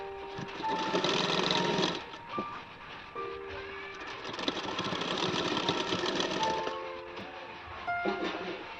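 A sewing machine stitches a folded panel of a six-panel petticoat, its rapid mechanical whirr running in long bursts with brief pauses and tonal squeaks, close and steady, without talk.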